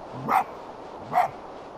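An animal in a video game gives two short barks about a second apart, fairly clear over a faint background hiss.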